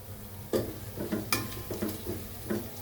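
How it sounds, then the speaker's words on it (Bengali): Onions fry in oil in a blackened kadai during chicken biryani cooking, a low sizzle punctuated by regular sharp scrapes and taps of a spoon stirring every half second or so. "পেঁয়াজটা ভাজা হয়ে গেছে"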